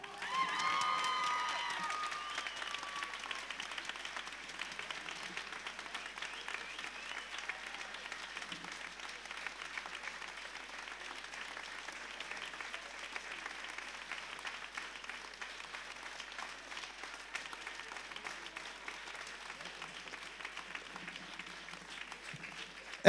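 Sustained applause from a concert audience for the leader of a folk ensemble, a steady, fairly quiet roar of many hands that lasts over twenty seconds. A voice speaks briefly at the start.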